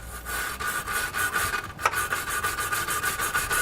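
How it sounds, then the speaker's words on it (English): A tube brush scrubs inside the threaded holes of a vehicle frame while a Curt trailer hitch receiver is fitted to a 2019 Hyundai Santa Fe. The rapid, rhythmic back-and-forth rasping is close, with one sharp knock midway. "it's a good idea to clean out our threaded holes. And I'm going to do that with a tube brush."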